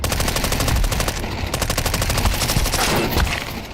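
Rapid automatic gunfire from a video game shooter, loud and sustained bursts of machine-gun fire with sharp repeated cracks throughout, no talking.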